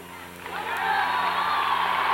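Crowd at a high school boys basketball sectional final between Dodgeville and Cuba City swells into loud cheering, the roar building over the first second and holding at full volume.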